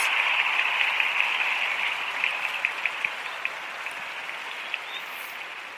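Steady, moderately loud applause from an audience, sustained and even for several seconds, with a few sharper individual claps standing out toward the end.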